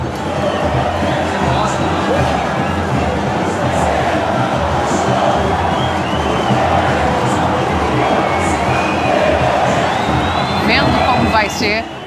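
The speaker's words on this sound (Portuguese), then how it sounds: "o grito da arquibancada é para ficar na arquibancada e ser apenas um cântico" Corinthians football fans chanting in the stands ahead of a derby, a loud, dense and continuous mass of massed voices singing together with no break.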